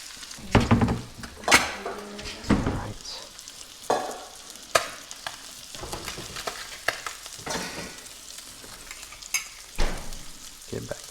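Trout frying in butter in a pan: steady sizzle broken by repeated scraping and clinking of a utensil against the pan, close and fairly loud.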